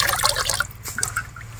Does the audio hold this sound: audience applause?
no